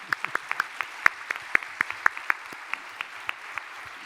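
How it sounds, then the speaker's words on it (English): Scattered audience applause at a biodiversity monitoring conference's opening session for an organizer and his team, a handful of distinct, crisp claps in a loose, uneven rhythm rather than a full roar, thinning toward the end. "Can I ask another round of applause for Mathieu and his team"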